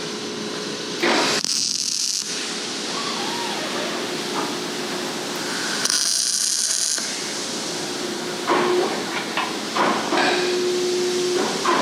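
A few tack welds on a steel part in a fabrication shop, each a loud crackling hiss lasting about a second, separated by gaps of steady background noise.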